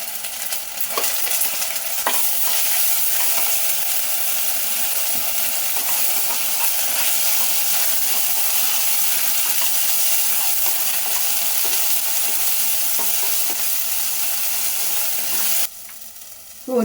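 Ginger garlic paste and chopped garlic cloves fry in hot oil for a Seeraga Samba rice biryani. A loud, steady sizzle runs close and continuous with faint stirring scrapes, then cuts out abruptly near the end.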